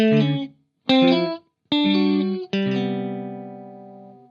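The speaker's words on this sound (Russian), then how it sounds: "первый тон-принт — это такой тон-принт с дилейчиком" Plucked electric guitar notes through a TC Electronic Brainwaves pitch shifter pedal's delay TonePrint ring out, each trailing into repeating echoes, and the last chord fades slowly with a long delay tail.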